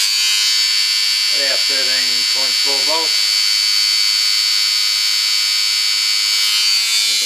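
An electric motor drives a homemade rotary transformer, giving a steady high whine and buzz throughout, loud and close, while someone talks over it for the first few seconds.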